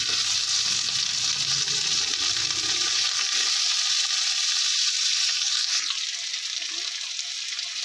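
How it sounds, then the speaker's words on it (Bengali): Chopped potatoes hit a hot pan of frying onions for a soybean and potato curry, a loud, dense sizzle that fills the whole stretch, easing slightly partway through with faint stirring scrapes. "তারপর কেটে রাখা আলুটা দিয়ে দিচ্ছি।"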